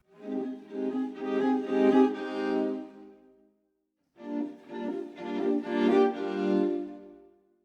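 A slurred-note instrument sample plays back at double speed, sounding as two sustained harmonic tonal phrases separated by a short gap, clean and close with no voices.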